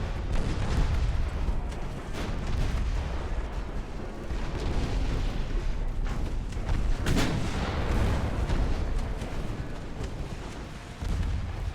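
Warship guns firing in the naval battle game Ultimate Admiral: Dreadnoughts with 1890-era hulls, a continuous barrage of heavy booming cannon blasts and rumbling explosions, loud and dense with a sharp report near the middle.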